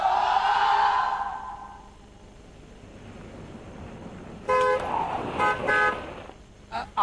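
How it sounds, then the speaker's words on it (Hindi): A car horn honks in a street scene: after a muffled stretch of background noise, several short bright honks ring out in quick bursts, fairly close, with brief voices around them. "ये गाड़ी आप ही के लिए भोंपू बजा रही है।"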